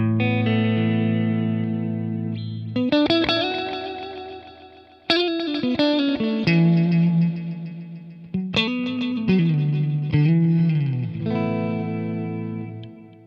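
Electric guitar run through a LEKATO Tank-G multi-effects pedal on its dual delay setting, playing sustained distorted chords and bends whose repeats waver slightly in timing, loud and close with swelling, decaying notes and no talk.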